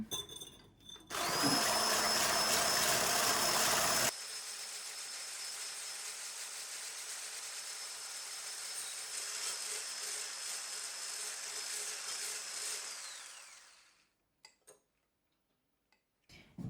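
An electric mixer whips egg whites for a meat soufflé, first loud and bright, then a steady whirring drone for about ten seconds before it winds down and stops, leaving a few faint knocks.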